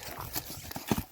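A three-year-old horse's hooves clop in quick uneven beats close by, a short run of sharp knocks with some low background noise and no talk.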